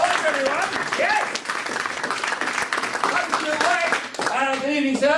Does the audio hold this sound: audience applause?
yes